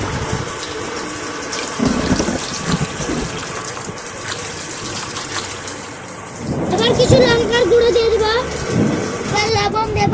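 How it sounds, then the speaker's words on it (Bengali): Water gushes and splashes as it is poured into crushed lemon leaves for juice outdoors in the rain, growing louder midway, with a voice talking and rain falling in the background. "এবার কিছু পরিমাণ জল দেবো"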